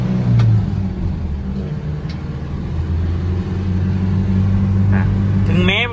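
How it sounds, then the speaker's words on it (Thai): Nissan Big-M pickup truck from 1994, a red-top engine model, revving under load with a steady low rumble that rises at the end. It sounds close and fairly loud, and faint voices can be heard in the background. "เดี๋ยวผมจะพาเร่งเครื่องให้ดู"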